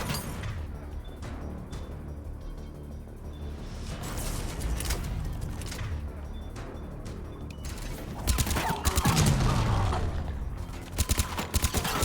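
Rapid gunfire rattles through a shooting video game as enemies are gunned down, dense bursts of shots with mechanical clatter running continuously across the whole stretch, louder toward the end.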